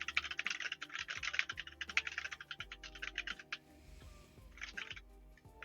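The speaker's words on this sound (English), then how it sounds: "I hear the typing of notes." Rapid clattering keystrokes on a computer keyboard, close and steady in quick bursts with a short pause before a final flurry, over a faint low background hum.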